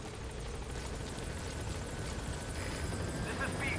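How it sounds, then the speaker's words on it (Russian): A helicopter in Metal Gear Solid V: The Phantom Pain arrives, a constant dense rotor and engine roar holding at an even, moderately loud level throughout with a faint tonal whine on top. "Ладно, вызываем тогда вертолет на рандеву"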